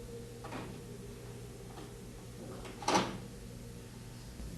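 The dispenser drawer is pulled from a front-load washing machine with a service tool: soft plastic knocks, then one sharp scraping clack near the end, close and fairly quiet.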